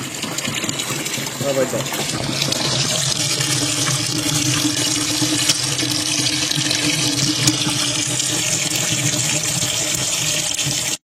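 Maple sap gushes steadily into a pot for filling, a continuous loud pour close by, while a person speaks briefly over it in French; the flow cuts off abruptly at the end.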